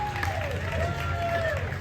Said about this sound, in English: Everybody else is just clapping